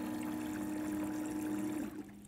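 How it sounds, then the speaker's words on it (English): A DiversiTech ClearVue condensate pump drains water from its tank: a steady motor hum with water rushing through, running for about two seconds before cutting off abruptly. "ClearVue will quickly remove the water from the tank."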